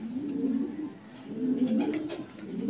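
Pigeons coo repeatedly in low, rolling phrases, close and fairly steady, with brief pauses between bursts and no voices.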